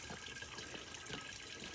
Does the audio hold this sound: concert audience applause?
no